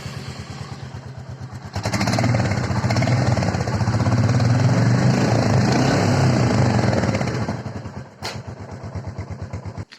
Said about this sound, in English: So here is the exhaust note of Meteor 350.